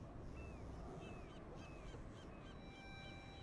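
Birds caw repeatedly in the distance over a steady wash of ambient noise in the video game Dishonored 2, several short calls spread across the stretch.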